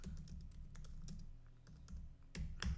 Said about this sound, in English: So I'm just typing on my keyboard here.